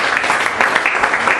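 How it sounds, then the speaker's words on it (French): An audience applauding during a Christian sermon about Christmas, a steady dense wash of clapping that holds evenly from start to finish with no voices over it. "Voilà, acclamons bien Jésus-Christ"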